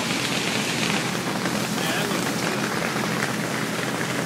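Heavy rain and storm noise outside a welding workspace, a dense, steady roar that stays loud and unbroken throughout.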